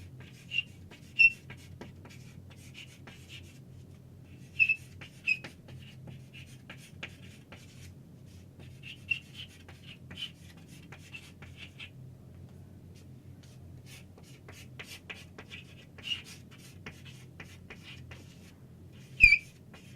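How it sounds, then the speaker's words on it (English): A sentence written by hand, heard as faint, scratchy strokes with short pauses between bursts against a quiet low hum, with no talking. "First, I will write the sentence."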